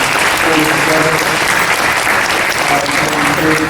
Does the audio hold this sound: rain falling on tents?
no